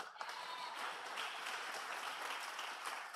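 A crowd at a CHARIS NYC talk gives a dense, steady wash of applause that carries on without a break for several seconds.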